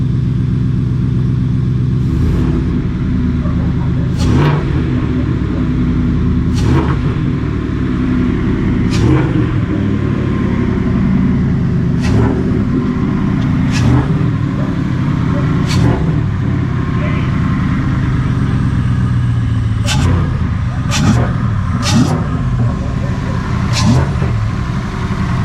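A Ford F-150 pickup with a junkyard-built engine idles loudly and steadily, with a throaty low rumble and occasional sharp blips of throttle spaced through the run, close to the microphone.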